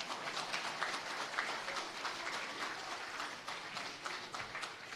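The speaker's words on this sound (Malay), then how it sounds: "Tepuk tangan lagi." A crowd at a Perikatan Nasional GE15 manifesto launch applauds, a dense, even patter of many hands clapping at moderate level throughout, with no voices standing out.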